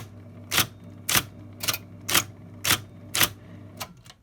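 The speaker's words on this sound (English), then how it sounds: "I'm going to type just something simple." A typewriter fitted with a Tech 3 ribbon strikes seven distinct keys at an even pace of about two per second, each a sharp close clack over a soft mechanical hum, with no voices.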